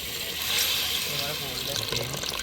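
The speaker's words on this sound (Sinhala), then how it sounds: "වතුර ටිකක් දාමු." Water pours into a cooking pot at an outdoor camping kitchen near a waterfall, a continuous splashing fill, with people talking over it.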